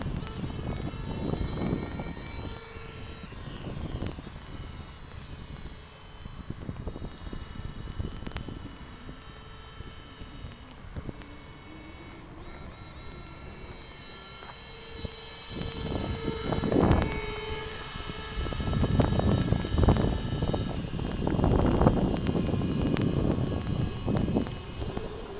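Small electric RC airplane on a 7.4-volt lipo flying in strong wind, its faint buzzing motor rising and fading as it passes, buried under heavy gusting wind noise on the microphone.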